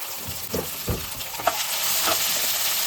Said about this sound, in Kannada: ಇಷ್ಟನ್ನು ಎಲ್ಲನೂ ಒಟ್ಟಿಗೆ ಎಣ್ಣೆಗೆ ಹಾಕೊಂಡು ಫ್ರೈ ಮಾಡ್ಕೊಳ್ಳಿ